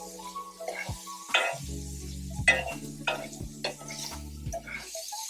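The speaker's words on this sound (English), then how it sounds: "So we're just going to saute these onions and green peppers down." Onions and green peppers sauté in a pan with a low, soft sizzle beneath sharp clinks and scrapes of a utensil stirring, a faint hum running underneath, no one speaking.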